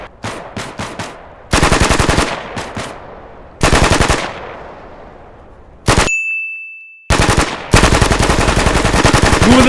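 Gunfire in a military simulator game: several loud, close bursts of rapid automatic fire with sharp metallic ringing, separated by short gaps, the last burst running long.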